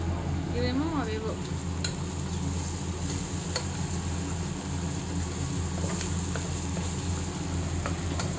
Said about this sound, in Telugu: ఇక్కడ ఉల్లిపాయ ముక్కలు మాడిపోతున్నాయి